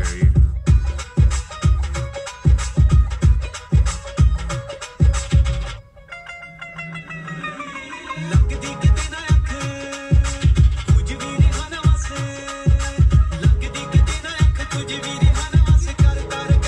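Music with punchy bass beats plays through the Harman Kardon speakers in a Tata Tiago car, loud and steady, with a short breakdown midway before the rhythmic thumping returns.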